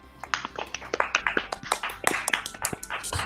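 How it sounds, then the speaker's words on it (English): A small group claps at a student organisation election meeting, a fairly close patter of uneven individual claps lasting the whole stretch with no talking. "I like the claps."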